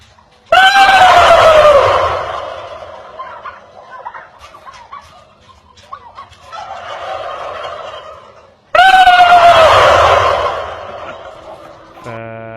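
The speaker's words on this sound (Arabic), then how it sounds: "فصوت الديك الرومي لفت نظري لحاجه كده" A turkey on a rooftop lets out two loud, close gobbling bursts separated by a quieter stretch of softer calls, with a faint dog-like yip near the end.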